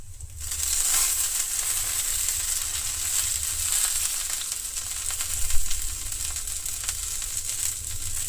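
Mint leaves fry in a hot pan, a loud, close, continuous sizzle and crackle that holds steady throughout with no voices over it.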